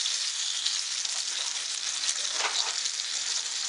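Spicy pomfret fish fry sizzles in a pan, a steady bright hiss of hot oil with a slight shuffle as the fish is turned, close and moderately loud, with no talking.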